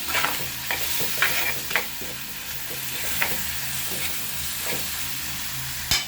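Ingredients for mutton curry, including garlic, sauté in a pan with a steady close sizzle and repeated scraping stirs of a spoon, with occasional sharper clinks and no talking.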